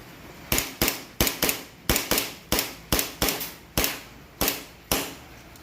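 A Kimber Warrior replica pistol fires about a dozen loud, sharp cracks close by, outdoors in Baluga, Talavera, Nueva Ecija. The shots come in an uneven rapid string, each one with a short decaying tail.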